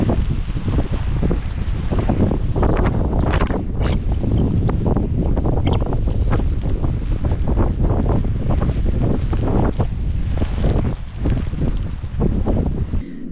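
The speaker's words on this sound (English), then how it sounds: "There's still quite a few gusts coming through, strong gusts" Strong wind gusts buffet the microphone in a steady roar, surging throughout on a boat at anchor ahead of Cyclone Lola, with no voices heard.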